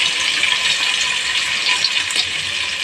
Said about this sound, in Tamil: கடுகு நல்லா வெடிக்கட்டும்.